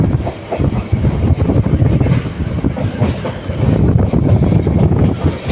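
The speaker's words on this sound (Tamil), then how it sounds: "கோயம்புத்தூர் டூ நாகர்கோவில் எக்ஸ்பிரஸ் ஒரு வண்டி கிராசிங் நிற்கும்" Near a railway crossing on the Dindigul line, the Coimbatore to Nagercoil express rumbles past: a loud, steady low roar with rattling wheels and wind buffeting the microphone, with no talk.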